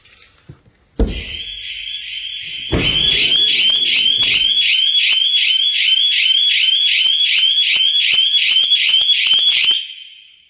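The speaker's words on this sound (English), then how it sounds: "it also comes with a shock" After a couple of thumps, a loud electronic shock-sensor alarm siren blares up close, rapidly warbling for several seconds before cutting off.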